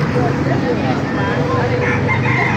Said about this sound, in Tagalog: mga manok panabong dito